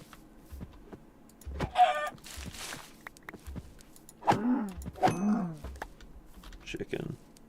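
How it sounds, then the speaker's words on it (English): A chicken in the video game Minecraft gives several short clucks in scattered bursts, with a person talking on and off between and over them. "Chicken."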